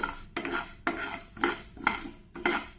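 Coriander seeds dry-roasting over a medium flame, stirred in a pan with a rhythmic rattling scrape that sweeps through about five times, close and fairly loud, with no voices.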